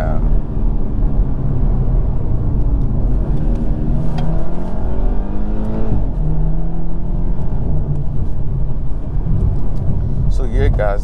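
A 2021 Toyota Supra with the 2.0 engine pulls hard from inside the cabin, its engine note rising in pitch through the gears without reaching redline, loud and constant, with someone talking over it.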